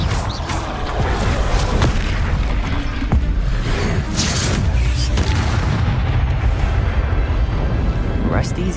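Confringo fire spell blasts in the Hogwarts Legacy video game, loud booming explosions and crashes in a dense continuous battle din, with voices talking over the chaos.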